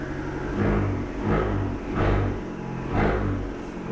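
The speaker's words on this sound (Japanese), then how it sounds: "エンジンかけますね" An Abarth 695 Tributo Ferrari engine with Record Monza exhaust revving up and down four times in a steady rhythm, deep and throaty, close by with no talking.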